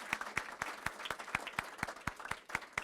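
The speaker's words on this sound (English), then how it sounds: "Let's please give them a round of applause." Sharp hand claps repeat at a steady, fairly quick pace, like a small group clapping together at an outdoor teacher appreciation ceremony on a football field. Nobody speaks.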